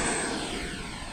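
FlyFans K-8 Red Falcon RC model jet running at half throttle, a loud continuous ducted-fan rush with a slowly shifting whine, close to the listener.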